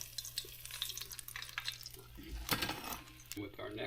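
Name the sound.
placing fried skate wing on cooling rack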